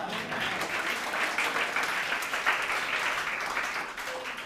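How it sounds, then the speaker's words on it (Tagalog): A church congregation applauds steadily, a dense and even wash of many hands clapping for several seconds, moderately loud and slowly tapering near the end. "Hindi lang puro palakpak."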